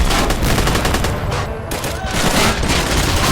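Artillery and gunfire in The Toy War, a battle game with rebel soldiers attacking in waves. Dense, continuous booming barrages and rattling shots fill the whole stretch, loud and close.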